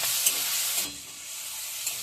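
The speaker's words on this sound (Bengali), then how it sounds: "তেল গরম হয়ে গেছে তেলের মধ্যে আমি কটা কালো জিরে দিয়ে দিচ্ছি আমি চিংড়ি মাছগুলো দিয়ে দিচ্ছি" Shrimp fry in hot oil with black cumin seeds, a steady close hiss of sizzling that eases slightly partway through, with faint stirring clicks and no talk.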